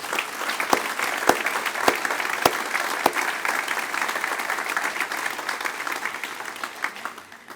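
An audience at a State of the City address in Harlingen breaks into a loud, sustained round of applause, dense clapping with a few sharper claps standing out near the start, fading slightly toward the end.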